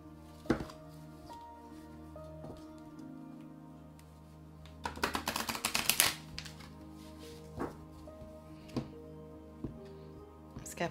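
Tarot cards are shuffled close by in a quiet room, with a dense riffling burst in the middle and scattered soft taps and card handling before and after.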